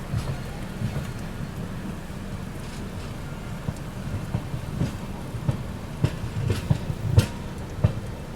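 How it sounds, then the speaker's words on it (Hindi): Steady rain hisses across an open valley in Mizoram, India, with scattered patters and drips growing a little heavier toward the end. "ये खूबसूरत नज़ारा आप देखिए सामने, वैली में बारिश हो रही है।"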